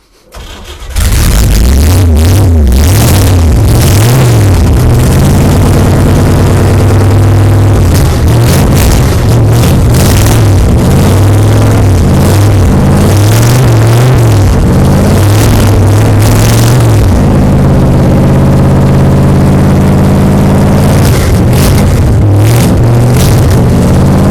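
A loud, rough old-school hot rod engine roars continuously close by, revving up and down repeatedly with a deep rumbling idle between surges.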